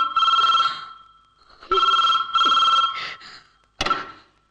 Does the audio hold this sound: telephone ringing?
yes